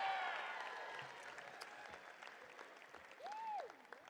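A commencement audience claps and cheers for graduates in a large hall, sustained, fairly distant applause with scattered whoops and a rising whistle near the end.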